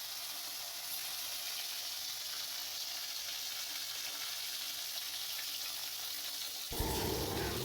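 A steady, hissing sizzle of snakehead fish, coated in salt and turmeric, frying in hot oil continues without a break, and a louder burst comes in at the very end.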